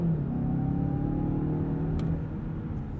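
A 2020 Mazda 6 launches with traction control off, its engine droning steadily and loudly from inside the cabin as the car pulls away with wheel spin.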